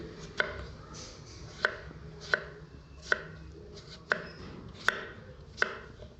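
A knife chops through ash gourd on a board in seven sharp, evenly spaced strikes, each a crisp thunk over faint background hiss.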